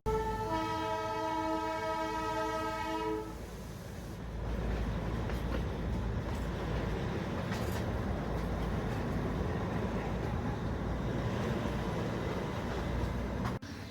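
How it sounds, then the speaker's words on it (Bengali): A Darjeeling Himalayan Railway toy train on its narrow two-foot-gauge mountain line sounds a loud, sustained whistle for about three seconds, followed by the steady chugging rumble of the train moving off. "এবার হুইসেল মেরে দিয়েছে।"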